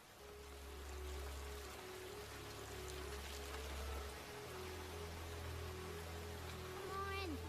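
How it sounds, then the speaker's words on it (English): Rain pours steadily in an animated My Little Pony episode, a constant hissing downpour with low rumbling underneath and a faint tonal sound near the end. "The rain is only getting worse, Apple Bloom."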